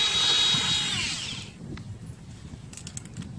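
A power tool spins off the 12 mm nuts on a Honda S2000 window regulator, giving a loud whirring whine for about a second and a half before winding down, followed by a few faint clicks.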